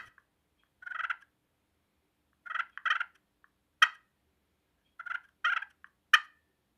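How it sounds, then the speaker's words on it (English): Hand-played turkey pot call worked with a striker, giving short cluck-and-purr bursts in a broken rhythm, several separate clean calls with silence between them, close and clear. "Combine the cluck and you have a cluck and purr."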